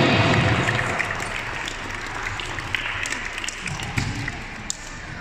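A crowd at a youth basketball tournament closing ceremony applauds loudly at first, then the clapping thins into a steadier, lighter patter of scattered hands.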